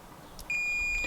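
A steady, high electronic beep from a multimeter continuity check on an Audi fuse starts abruptly and holds at an even pitch in a quiet room.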